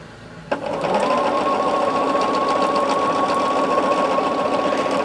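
A sewing machine runs at speed while stitching a quilt block, starting with a click and then holding a steady, loud mechanical whir with rapid stitching pulses to the end.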